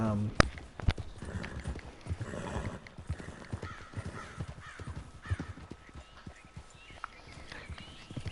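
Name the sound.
horse hooves while riding in video game Red Dead Redemption 2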